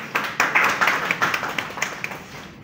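A small audience at a poetry gathering claps briefly, a short run of distinct hand claps close by that thins out and fades within about two seconds.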